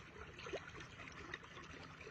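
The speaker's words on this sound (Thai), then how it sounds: "น้ำไหลเข้านา ประมาณนี้แหละจ้าพี่น้อง ท่อหนาแปดจ้าพี่น้อง" Water trickles and gurgles steadily from a thick pipe into a rice paddy, a faint, continuous close-up flow with small splashes.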